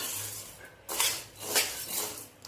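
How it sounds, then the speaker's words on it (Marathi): Sago pearls dry-roasting in a pan, heard as a few short rustling scrapes of a spoon pushing the pearls around the metal surface, close and quiet over a faint background hiss. "आता हा साबुदाणा आपल्याला चांगला भाजून घ्यायचा आहे"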